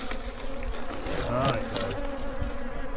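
Bees buzz steadily and loudly around a beekeeper at the hives, a dense continuous drone close by, with a brief spoken word and some chatter over it.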